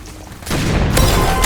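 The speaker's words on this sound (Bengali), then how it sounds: "আমিও আরবিজি চালাচ্ছি" RPG fired in the video game Hypershot: a sudden loud explosive blast that holds as a dense, sustained roar, with a second sharp crack near the end.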